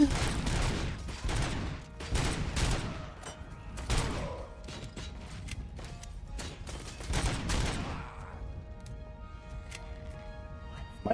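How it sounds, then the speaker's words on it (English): Micro SMG fire in a RoboCop video game, repeated rapid bursts of automatic shots at moderate level with brief gaps, over quieter background game sounds. "Micro SMG, let's go"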